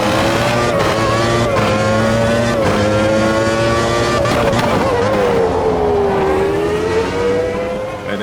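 A McLaren MP4/7 race car in the Automobilista 2 racing game, its engine holding a loud, steady high-revving whine throughout. The pitch dips and climbs again midway as if shifting through a corner, with no talk.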